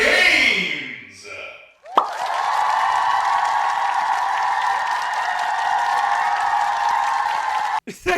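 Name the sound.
audience applause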